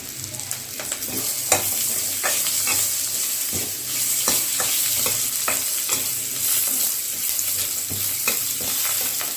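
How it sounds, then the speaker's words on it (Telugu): Ginger frying in a pan for a restaurant-style mushroom curry, a steady sizzle broken by repeated sharp scrapes and stirs of a spatula, close and clear with no talk. "అల్లం కూడా ఫ్రై చేసుకోవాలి"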